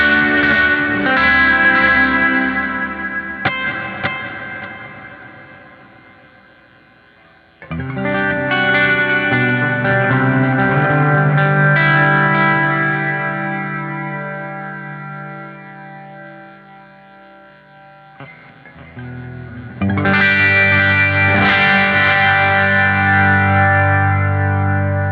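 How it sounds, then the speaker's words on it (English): Electric guitar played through a NUX MG30 multi-effects unit with a modulation delay set to dotted eighths and only slight modulation, chiming phrases with rhythmic repeats trailing off between three loud strummed sections. "So it's a modulation delay, but I don't use much of the modulation effect, just a tiny bit."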